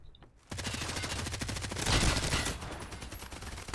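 Rapid bursts of gunfire from the online shooter game Hired Ops crackle in a dense, sustained volley after a brief quiet start, loud and continuous, with no voices over it.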